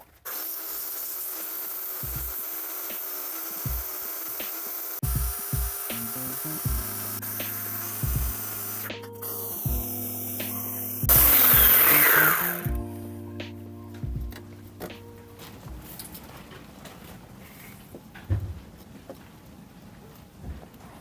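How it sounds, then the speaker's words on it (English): A power grinder works on a fibreglass boat hull that has osmosis blisters and old antifoul, whining in intermittent passes with a steady tonal hum. A loud, harsh burst of grinding swells in the middle before dropping back to lighter work. "I'm going to grind that open a bit more and see if we can get that reading a bit lower"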